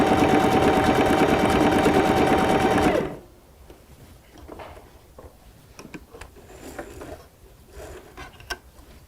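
A Bernina B05 Academy sewing machine stitches loudly and steadily along the edge of applique fabric, its rapid mechanical chatter running for about three seconds before stopping, followed by faint handling noises.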